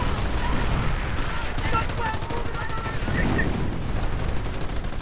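Machine gun fire in a war video game comes as rapid, continuous bursts of gunfire, loud and dense, with distant battle noise underneath and a voice commentating over it.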